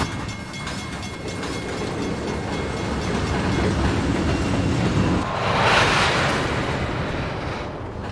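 Train wagons in the Trainz video game with a modded slack action sound, a continuous rolling rumble with a brief louder surge of couplers clanking midway, steady and close with no talking.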